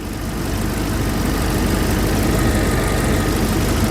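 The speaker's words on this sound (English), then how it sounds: "Fired it up, so where we used to have a really bad exhaust leak over here" A Jeep Wrangler engine idles steadily after an exhaust leak repair, a close, even low rumble with a broadband hiss that holds level throughout, no voices over it.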